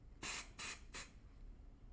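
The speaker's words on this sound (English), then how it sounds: "Spray it." A can of dry shampoo made with rice starch and argan oil gives three short, close hissing sprays in quick succession, each burst about a quarter second long, with quiet pauses between and no talking.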